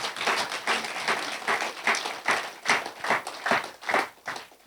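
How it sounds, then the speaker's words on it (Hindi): An audience claps heartily in a sustained, rhythmic wave of applause, clearly heard and fairly close, with no talking over it. "उनके लिए भी जोरदार तालियां होना चाहिए"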